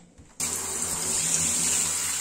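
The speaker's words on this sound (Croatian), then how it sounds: "prvo ga istuširamo vodom" After a brief quiet moment, a steady, close gush of water rinses the blower turbine of a Vox air conditioner unit with an E4 fault, running continuously to the end.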